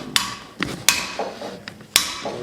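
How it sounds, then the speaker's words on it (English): Light hammer taps ring sharply on a horn anvil while an 18th-century style horseshoe hinge is forged, about three bright metallic strikes with a few softer knocks between them, close up and with no voices. "Give it a couple light taps, make sure I haven't tightened it too much."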